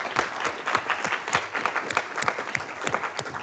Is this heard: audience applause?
yes